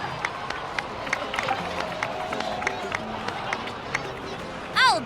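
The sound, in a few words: crowd applause and cheering in video game cutscene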